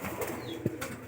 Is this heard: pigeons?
yes